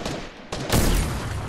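Gunfire in the Fortnite battle royale game: a short dense burst of shots, loud and close, starting partway through after a quieter stretch, with no talking.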